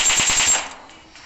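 Rapid automatic gunfire from a shootout in a mobile battle-royale video game, a short loud burst of about five quick shots that ends abruptly and fades.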